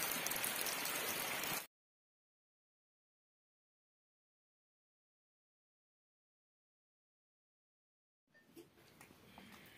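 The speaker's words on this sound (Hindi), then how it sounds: "और बाहर लगी है बारिश, ये देखिए बारिश लगी हुई है बाहर" Steady rain falls outdoors in a cold rural setting, a dense hiss that runs for about two seconds, cuts to silence, then returns fainter and patchier near the end.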